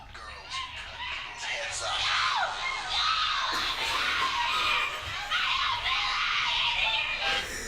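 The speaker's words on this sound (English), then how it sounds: "It is just her screaming for like 30 seconds." A woman screams at the end of a song, long, strained shrieks held over recorded music for several seconds with a crowd-like roar beneath.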